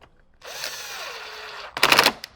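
Power drill driving screws at the top of a speaker mount during a Jeep JL Wrangler audio install, one sustained whirring run followed by a short burst of harsher ratcheting bursts, close up with no talking.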